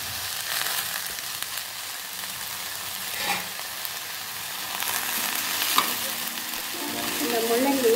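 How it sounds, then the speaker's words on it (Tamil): Grated radish sautéing in a hot pan gives a steady, close sizzle with occasional stirring scrapes, rising slightly louder toward the end, with no talking. "இந்த முள்ளங்கியை நல்லா வதக்கிக்கணும்."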